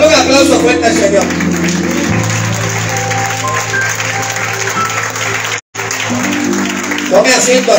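Loud sustained applause from a church congregation at an evangelical service, steady clapping with crowd noise and voices over it, and a brief cut near the end.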